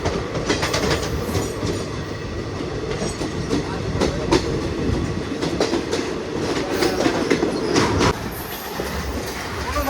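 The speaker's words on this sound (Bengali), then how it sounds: "প্যারাডাল হচ্ছে মাতারা এক্সপ্রেসের সাথে, সিগন্যাল এলো, মাতারা আগে যাবে।" A Matara Express passenger train rolling past on the rails, loud and close, with continuous rumble and rhythmic clickety-clack of wheels over rail joints and faint squeals.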